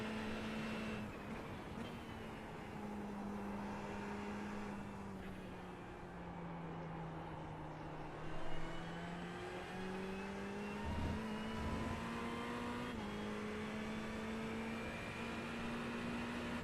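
GT3 race car engines from the iRacing game during the 10 Hours of Suzuka, heard as a steady faint drone whose pitch rises and falls through gear changes, with no talking.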